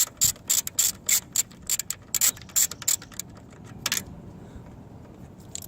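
A ratchet wrench loosening a bolt on the alternator and serpentine belt area of a 2002 Subaru Impreza WRX, with bursts of rapid metallic clicking close up that stop after about four seconds, leaving quiet background.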